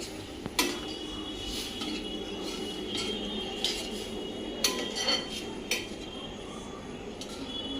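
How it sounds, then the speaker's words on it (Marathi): A spoon stirs a vegetable curry of field beans and pavta in a metal pan. Sharp clinks and scrapes come at irregular intervals over a faint, steady background, close by, with no voices. "अशी चांगली मिक्स करून घ्यायची"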